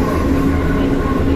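A steady, close rumble of a Pune metro train heard from inside a moving carriage, continuous and even, with no talking.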